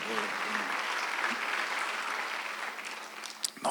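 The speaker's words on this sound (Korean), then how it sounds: "빨리 박수하세요." A church congregation at a Sunday worship service breaks into sustained applause that fills the room, a dense, even roar of many hands that thins slightly near the end.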